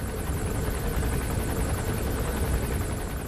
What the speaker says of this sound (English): How do I take down this helicopter?